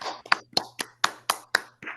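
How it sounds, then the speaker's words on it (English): Applause from a small online open mic audience for a performer, heard as eight separate sharp claps spaced about a quarter second apart, faint and thin. "Grassroots, warm round of applause for Thomas Carr."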